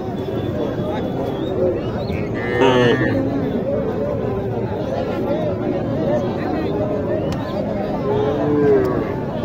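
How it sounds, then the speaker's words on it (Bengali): Cross-breed cattle at a crowded cattle market, with a few low moos rising over a steady murmur of chatter and nearby voices talking. "এটা কি ক্রস গরু নাকি?"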